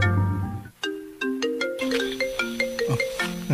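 A cellphone rings in a radio drama scene, a melodic electronic ringtone with a quick series of bright chiming notes, loud and close with no voices over it.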